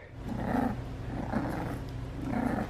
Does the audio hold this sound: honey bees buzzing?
no